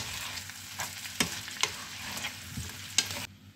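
Salted and peppered courgettes sizzle in a pan as a utensil stirs them, soft steady frying with several sharp scrapes and clicks, close and quiet.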